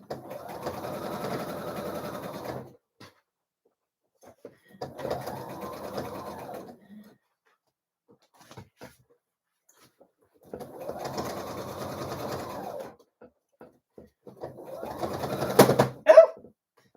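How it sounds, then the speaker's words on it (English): A domestic sewing machine stitching through fabric while sewing over a pin, running in four steady whirring bursts separated by silent pauses, with a sharp click or snap near the end. "if that had been Judy's machine sewing over a pin, it would have had a meltdown by now"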